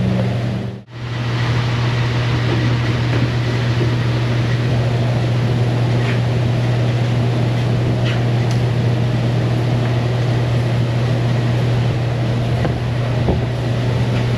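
A 1941 Ford engine with a misfire and no fan shroud runs steadily at a low, droning idle, loud and close throughout, with a brief dip in sound near the start.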